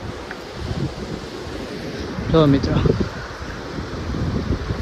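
Wind and surf on a seashore beside a small cave near a coastal Mahadev temple, a steady broadband roar that runs through the whole stretch, with someone talking over it.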